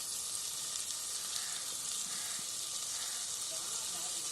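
Bata fish curry sizzles in a pan as turmeric powder goes in, making a continuous, even frying hiss at moderate volume.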